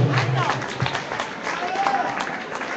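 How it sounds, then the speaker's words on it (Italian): An audience at a local palio event bursts into brief applause, dense and moderately loud, with voices mixed into the clapping. "Quindi un applauso Antonio."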